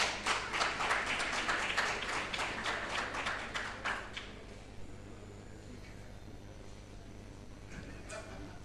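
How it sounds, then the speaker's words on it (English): Conference audience applause at an insurance brokers' gathering in Mbarara, Uganda: a burst of many hands clapping for about four seconds, then fading out to a quiet room with faint background tones. "Let's welcome Ronnie with a big clap."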